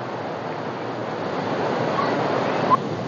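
A small mountain waterfall pours down from above, giving a steady, broad rushing wash of water that continues unbroken throughout.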